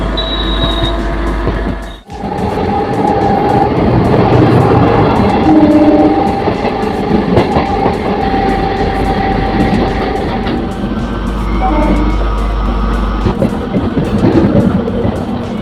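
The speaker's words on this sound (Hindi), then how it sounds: "1 मिनट होल्ड के बाद अपनी ट्रेन का डिपार्चर हो चुका चेलाहा हाल्ट रेलवे स्टेशन से।" A Raxaul Mehsi MEMU passenger train running on rails near a halt station: loud, continuous rumbling and clattering of wheels with intermittent squeals and clicks, briefly dipping before resuming.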